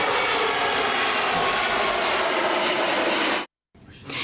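The second MS-21 airliner flying in the sky over Irkutsk, its engines giving a loud, steady roar that continues unbroken before a brief dropout near the end.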